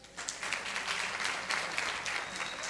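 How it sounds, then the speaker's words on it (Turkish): An audience breaks into applause on a television talent show, a steady burst of many clapping hands lasting a few seconds with no talk over it. "Bence bu özgüven bir alkış hak ediyor."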